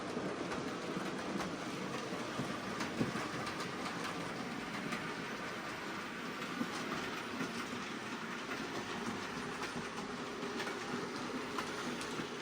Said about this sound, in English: we've got the Super D with a little light mineral train there